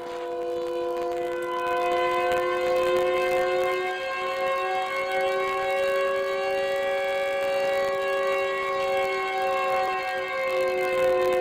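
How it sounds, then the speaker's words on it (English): The Siren Head creature in a video game lets out a long, steady siren wail with layered harmonic tones, sustained and fairly loud for over eleven seconds with no talking. "That was a siren sound, but it is in fact Siren Head."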